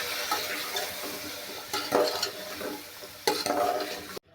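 Carrot slices and fresh pigeon peas stir-fried in a pan for spiced rice, with a spoon scraping and stirring in bursts over a steady close sizzle, then a sudden stop at the end.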